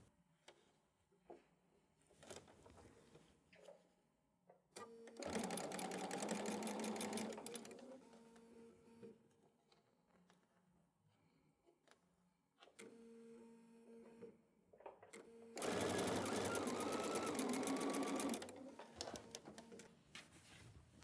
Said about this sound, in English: So I'm going to sew on this side.